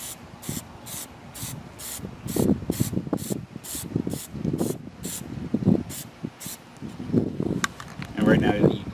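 Bursts of Plastidip aerosol spray hiss in quick rhythmic pulses as the outer ring of a Ninebot One E+ electric unicycle is coated, with rubbing and handling noises nearby and a voice heard at times.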